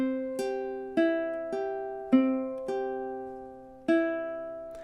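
A ukulele plays bar 16 of a song, six plucked chord strums in slow, even time, each ringing out and decaying, close and clean with no talking.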